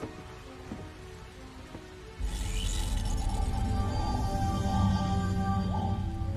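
Heavy rain during a storm starts abruptly about two seconds in and then pours steadily and loudly, with low rumbling underneath that suggests distant thunder; no one speaks.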